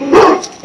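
A large female Doberman gives one short, loud, close bark, and a second bark starts right at the end.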